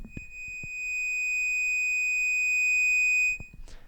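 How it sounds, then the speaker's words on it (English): A steady, pure sustained guitar tone from an EBow swells and holds for about three seconds amid small handling knocks, then stops with a brief scrape. "pop the EBow onto here and see if I get a noise out of it"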